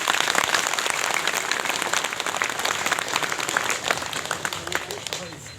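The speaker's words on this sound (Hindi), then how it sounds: "सब पूरा ताली बजा कर उनका बधाई दी" Audience applause greeting Comrade Madhav Nepal's appointment as party chairman at a political gathering, dense steady clapping sustained throughout and easing slightly toward the end.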